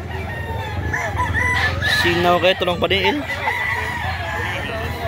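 A gamefowl rooster, a red longtail, crows once loudly and close by in the middle of the clip, with its call rising and breaking over a steady barnyard hum as people talk nearby.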